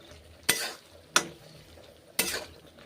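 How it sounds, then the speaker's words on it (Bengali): Eggplant stir-fried with spices in a pan: three sharp spoon strikes and scrapes against the pan at uneven intervals over a quiet, low sizzle. "বেগুনগুলো এখন দিচ্ছি, কষে নিচ্ছি বেগুন"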